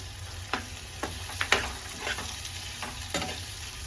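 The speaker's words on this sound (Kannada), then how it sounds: "ಈರುಳ್ಳಿ ಮೆತ್ತಗಾಗೋವರೆಗೂ ಇದೇ ರೀತಿ ನಾನು ಎಣ್ಣೆನ ಫ್ರೈ ಮಾಡ್ತಾ ಇರ್ತೀನಿ" Onions frying in oil in a pan on a stovetop, a steady crackling sizzle with several distinct stirring scrapes and clinks at irregular intervals, close and moderately loud, with no talking.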